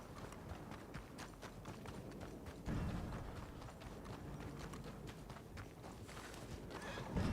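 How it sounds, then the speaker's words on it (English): A horse galloping in a video game, steady quick hoofbeats under a continuous noisy game soundscape, moderately loud throughout with a brief surge partway through. "How do I outrun the horse?"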